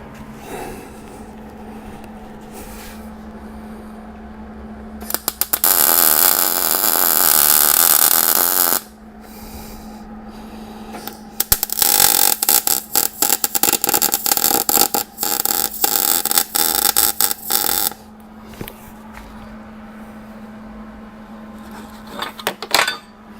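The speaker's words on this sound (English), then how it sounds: "We're going to put 4 generous tack welds on this to support it" Tack welding an engine mount for an Ardun motor on a weld table for a 1932 Ford Five Window. Several loud crackling, buzzing bursts of several seconds each break into a steady low hum, with quieter gaps between them.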